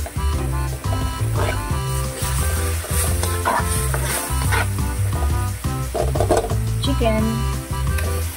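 Chicken pieces hit a hot pan and sauté for sinampalukang manok, giving a steady sizzle under loud music with a short spoken remark.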